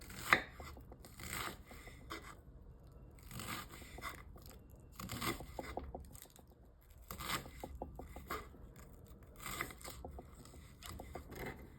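A knife chopping onion on a cutting board while making vegan stuffed cabbage rolls: clusters of quick, crisp cuts in uneven bursts with short pauses between, fairly close and clear with no talking.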